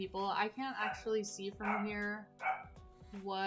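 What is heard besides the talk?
dog barking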